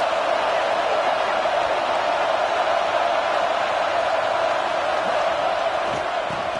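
Football stadium crowd roaring steadily in the red zone, cheering on the home defense; a dense, continuous wall of crowd noise at even loudness throughout, with no clear voices standing out.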